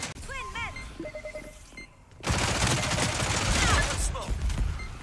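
Gunfire in the video game Spectre Divide: after a few short electronic chirps and beeps, a sustained burst of rapid shots erupts and rattles on loudly for several seconds.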